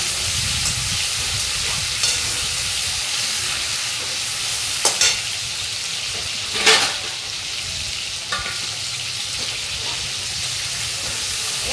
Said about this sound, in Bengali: চিংড়ি মাছগুলো হালকা ভাজা হয়ে গেছে